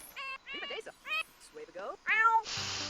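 Cat meowing in the Sims 4 video game, a string of short, bright meows and chirps in quick succession, clear and close, ending with a burst of rustling noise.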